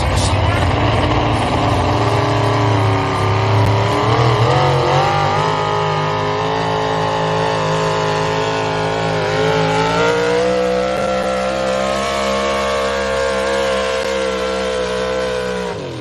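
A hot-rod pulling tractor roars loudly at a truck and tractor pull, its engine pitch climbing and shifting as it strains down the track, with an announcer talking over the din.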